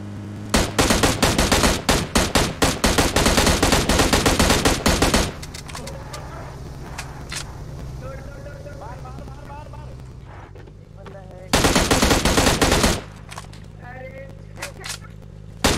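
Bursts of rapid automatic gunfire ring out in a video game shooter, dense rattling volleys for several seconds, a pause filled with scattered shots and voices, then another loud burst, with players talking excitedly over it.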